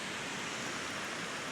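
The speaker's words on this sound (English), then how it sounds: "Look at these waterfalls." Continuous broad hiss of rushing waterfalls in the Lost Valley of Glencoe, steady and even without breaks, moderately distant and fairly faint.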